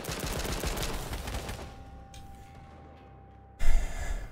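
Gunfire in the battle royale game H1Z1 comes as a dense, loud stretch of rapid shots that cuts off into a quiet lull with a faint tone, then one sharp loud burst returns near the end.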